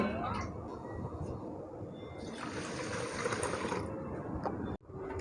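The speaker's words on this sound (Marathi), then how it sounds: "आता आपण पाणी ओतून घेऊयात" A soft trickle of water is heard, then a fuller stream of pouring over rinsed lentils for a couple of seconds before it cuts off.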